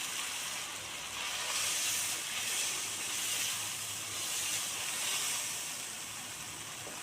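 A paste of poppy seed, cashew and sesame sizzles in a hot pan, a steady bright hiss with gentle swells, close and continuous with no talk.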